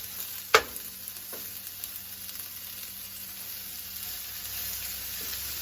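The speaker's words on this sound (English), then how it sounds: "we're gonna do these onion and things up in the skillet right here until they crispy tender" Bell peppers and onions sauté in a skillet with a steady, soft sizzle throughout, broken early by one sharp clink or tap of a utensil.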